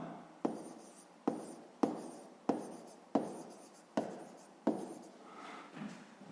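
Pen strokes scratch across paper while a sixth-grade maths exercise is worked out, a series of about seven distinct writing bursts, each starting sharply and trailing off, close and fairly quiet with no talking.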